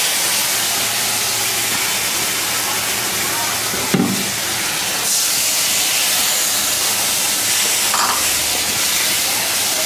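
Masala paste hits hot oil already frying cumin and bay leaves for a Bengali katla fish curry, giving a loud, steady hiss with a brief clatter partway through.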